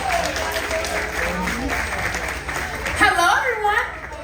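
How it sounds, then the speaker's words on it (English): Students in a theater audience at a live children's science show at Sesame Place applaud a welcome, a steady wash of clapping and cheering that swells near the end, with voices over it. "Okay, students, please give a warm welcome to Professor Keeks."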